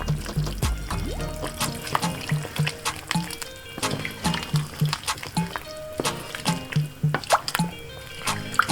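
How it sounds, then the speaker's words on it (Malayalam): Cornflour slurry is poured into simmering chilli chicken gravy, giving a series of close, wet plops and bubbling drips that repeat irregularly in an otherwise quiet kitchen. "അല്പം വെള്ളത്തിൽ 2-3 ടേബിൾ സ്പൂൺ കോൺഫ്ലവർ കലക്കിയിട്ടുണ്ട്. നമുക്ക് ആവശ്യത്തിന് ഒഴിക്കാം."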